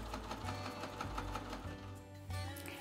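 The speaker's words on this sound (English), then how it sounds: "place the clasp or buckle where you want it to be in the front and sew into place" A sewing machine stitches a clasp onto the front of a cloak, its needle running in a steady, fast mechanical whir with brief pauses and restarts, close and loud with no talking.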